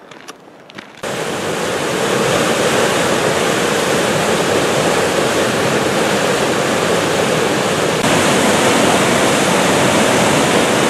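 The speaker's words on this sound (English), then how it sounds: "St. Mary's Falls, Glacier National Park." St. Mary's Falls in Glacier National Park roars as a loud, continuous rush of falling water that swells in within the first second and holds steady throughout.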